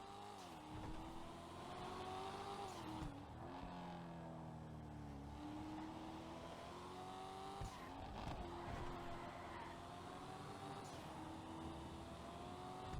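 A Blackfin sports car engine in GTA Online hums and revs steadily, with gear shifts and occasional tire squeal, the sound close and continuous throughout.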